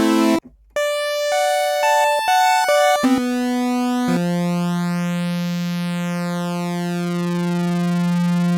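A synthesizer sine wave tone, pure and steady, stepping through several pitches before a slow sweep rises and falls in pitch and then settles on one low sustained note, with no voices.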